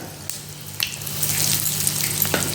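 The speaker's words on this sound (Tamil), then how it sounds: "எண்ணெய் ஹீட் ஆனதும் ஃபஸ்ட்டு நம்ம கடுகு சேர்த்துக்கலாம் உளுத்தம்பருப்பு கடலைப்பருப்பு ஆட் பண்ணிக்கலாம்" Mustard seeds with urad and chana dal sizzling in hot sesame oil in a pan, a steady close frying hiss that builds and thickens, with a few faint pops and clicks on top.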